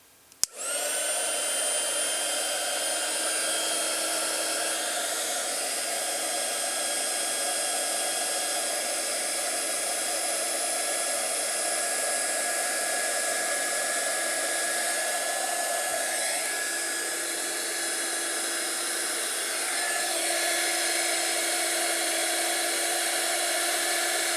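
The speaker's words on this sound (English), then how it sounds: "I'll heat up the heat gun. It's going to make some noise." A heat gun runs with a steady, loud blowing whir and high whine, shrinking heat-shrink tubing over electronic contacts, continuous for the whole stretch, dipping slightly in pitch midway, with no talking.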